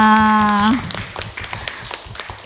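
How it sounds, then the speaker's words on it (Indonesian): A held, sung or hummed voice gives way to a small group clapping hands in scattered, uneven claps at close range. "Tepuk tangan buat kita semua."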